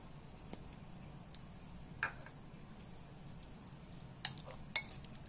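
Chicken pieces are tossed with cornflour in a bowl, a quiet, sparse scene with a few light clinks of spoon against bowl scattered over a faint background hum.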